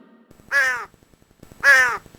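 Two loud, harsh caws from a crow in a Telugu animated story, each about a third of a second long and separated by a short pause, with a soft ticking background between them.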